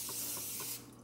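A nearly empty can of zero-calorie cooking oil spray hisses in a steady breathy burst for under a second, then cuts off, close and fairly quiet.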